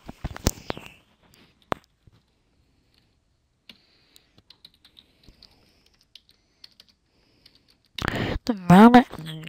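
Sparse, irregular keystrokes on a computer keyboard while typing in a DOSBox session, with quiet gaps between taps; a voice speaks briefly at the start and again at the end.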